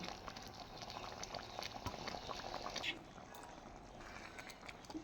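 A pot of chana dal and cauliflower curry simmers, giving a low continuous bubbling and faint popping close by, quiet and steady throughout.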